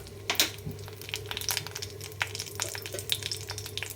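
Fenugreek and mustard seeds fry in hot oil for a brinjal stew, giving a steady close-up sizzle broken by sharp little pops and crackles, with no talking.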